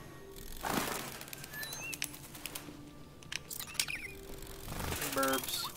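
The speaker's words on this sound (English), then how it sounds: "oh, the bird!" Chirping of an android bird in Detroit: Become Human, thin high calls and flutters scattered over clicking and a voice talking.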